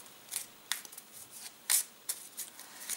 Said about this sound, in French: Et maintenant, je peux même mélanger ce paquet.